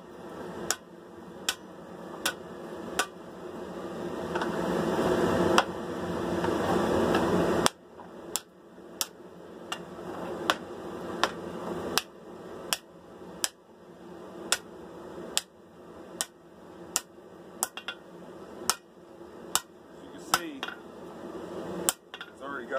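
Hammer blows ring out on hot metal at a forge while a Viking sword is shaped, about twenty sharp metallic strikes at an uneven, deliberate pace, close and loud over a steady low forge roar.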